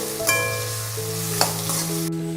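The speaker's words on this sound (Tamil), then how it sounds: "வெங்காயம் நல்லா வதங்கட்டும்" Sliced onion and curry leaves sautéing in a pan for an avarakkai (broad bean) dish, a steady sizzle with a couple of sharp stirring scrapes and clinks, close and fairly loud, no voices.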